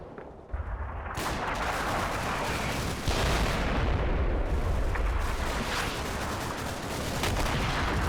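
Dense, continuous battlefield din of explosions and gunfire from the Combat Mission: Battle for Normandy war game, a steady loud wash with occasional sharper bursts standing out.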